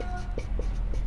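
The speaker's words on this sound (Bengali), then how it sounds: "আমি আগে লিখে ফেলি" Quick strokes of writing on a classroom board during a lesson, three or four short scratchy marks in a row, close and fairly loud over a low room hum.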